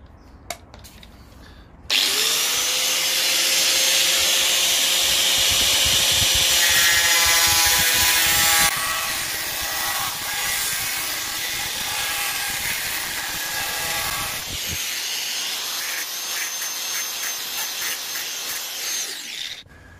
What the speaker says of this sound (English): Now I found a good way to cut it is just to use an angle grinder with one of these really thin discs on it.